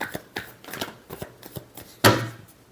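Tarot cards are shuffled by hand in a string of quick, soft riffling taps, close and quiet, finished by one sharper, louder burst of cards near the end.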